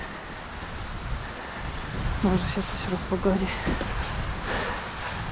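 Wind and rain sweep across a mountain hiking trail near Malá Úpa, a steady rushing roar that buffets the microphone while a person talks over it in the middle.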